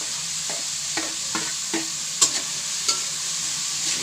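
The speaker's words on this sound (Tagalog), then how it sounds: "Pagka ganyan na siya, lagyan na natin tong ampalaya." Bitter gourd sizzles as it is sautéed with tomatoes in a pan, a steady frying hiss broken by several rhythmic scraping stirs of a utensil against the pan, close and fairly loud.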